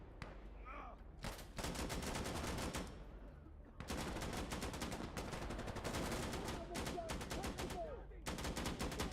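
Rapid bursts of gunfire fill an online shooter video game, dense repeated blasts in long volleys with short pauses between them, loud and close.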